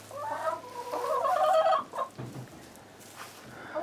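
Chickens cluck and a rooster crows inside a chicken house on a homestead, close and loud, with overlapping calls that rise and fade before a few scattered clucks.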